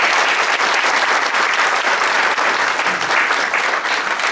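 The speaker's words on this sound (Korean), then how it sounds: "최호진 선생님 위해서 여러분 박수 부탁드립니다." An audience at a book launch ceremony applauds warmly, with dense, sustained clapping close and loud throughout.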